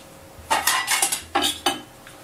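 A metal spatula scrapes and clinks against a chocolate hazelnut tart pan in several short strokes, close and crisp, with brief pauses between.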